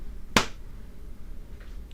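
A single sharp hand clap, close to the microphone and recorded dry for sampling, rings out alone against faint background noise.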